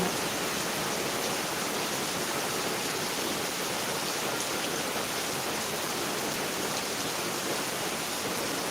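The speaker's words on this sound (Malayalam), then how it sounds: "ഗംഭീര മഴയാണ്" Heavy rain pours down in a steady, dense roar, continuous and loud throughout with no letup and no voices.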